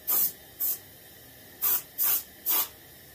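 An airbrush sprays paint onto a skin-mounted bluegill in five short, sharp hissing bursts of uneven spacing, close and clear against quiet background.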